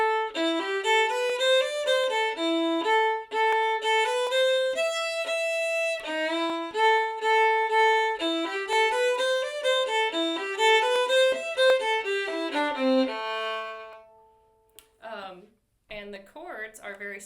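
A solo fiddle plays the B part melody of the bluegrass tune Jerusalem Ridge in a flowing run of clear bowed notes for about fourteen seconds, then a few brief tuning-like strokes close to the listener.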